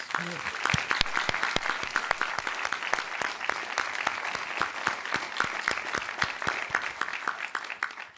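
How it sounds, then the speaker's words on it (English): Audience applause at a fireside chat event honoring a Lemelson-MIT Award inventor, a dense steady patter of many hands clapping for about eight seconds with a few louder individual claps standing out, fading at the very end. "So a special round of applause"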